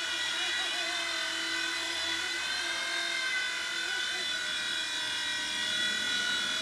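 A WL Toys V911 RC helicopter in flight gives a steady high-pitched rotor whine with a constant motor buzz, continuous and fairly close throughout.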